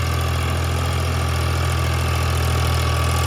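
A tractor engine runs steadily and loudly in a sugarcane field, a continuous low rumbling drone with no change in pace throughout.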